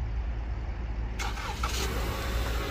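A Toyota car engine cranks and catches after a remote start from the key fob, a brief start burst that settles into a steady, fairly quiet idle heard close by.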